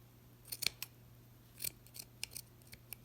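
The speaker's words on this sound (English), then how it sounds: "just take your scissors and snip some little strips into the fleece at the top of the hat" Sharp scissors snip strips into the fleece top of a handmade snowman hat, giving a handful of quick, crisp cuts in short bursts, close and fairly quiet with no talking.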